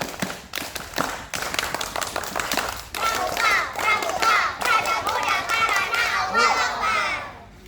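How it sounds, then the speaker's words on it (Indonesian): Scouts at a one-day Pramuka camp doing rhythmic group clapping, first a few sharp separate claps, then a denser patterned run of claps mixed with children's voices and chanting. "2 kali tepuk pramuka."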